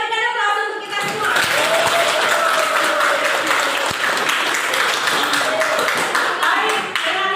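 A room full of people at a school gathering breaks into applause, with dense, continuous clapping close and loud throughout and voices briefly mixed in at the start.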